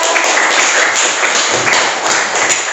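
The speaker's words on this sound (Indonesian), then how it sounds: "Kita kasih aplaus dulu buat Angel" A classroom of students claps for a classmate, a dense, loud burst of applause that fills the space evenly with scattered sharper claps and light thumps, with no talk.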